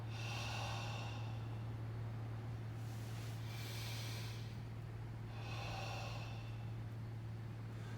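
Several long breaths pushed out through the mouth with an open "ha" shape during a martial-arts breathing drill, each a soft breathy rush over steady low hum, spaced a few seconds apart.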